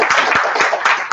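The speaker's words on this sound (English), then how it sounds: "So we get a round of applause again for Scott and Chief." An audience at a WordPress meetup claps briefly, a short burst of close, irregular hand claps that layer into a quick smattering of applause.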